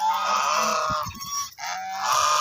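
Domestic geese or ducks on a farm at evening, loud sustained honking calls close by, with short rustling and footfall-like thumps in between.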